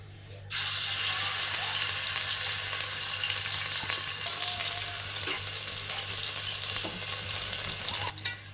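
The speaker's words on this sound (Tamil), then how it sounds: "இஞ்சி பூண்டு பேஸ்ட்டு பச்சை வாடை போகிற வரையிலும் வதக்கிடுங்க" Mutton frying with ginger garlic paste in a village-style pan gives a dense, continuous sizzle close up, with occasional faint clicks and stirring scrapes over a low steady hum.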